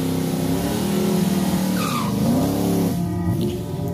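Drag race cars run hard down the strip at a Ford versus Chevy event, engines roaring loud and continuous with pitch sweeps as they accelerate and shift, no talk over it.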